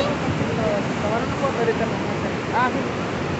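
Roaring Salto de Eyipantla waterfall in Veracruz, Mexico, a steady broadband wash of falling water heard from a distance, with voices talking faintly over it.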